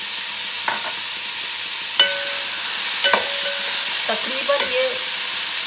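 Chopped onions fry in oil left from frying kebabs, with a steady sizzle and a few light stirring scrapes and clinks. A brief spoken phrase is heard over the cooking.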